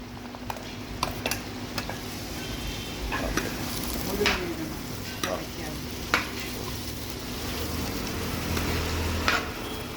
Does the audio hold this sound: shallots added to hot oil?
yes